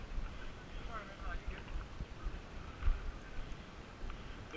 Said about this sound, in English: This wind is awesome.